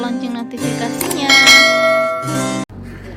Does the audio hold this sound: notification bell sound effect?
yes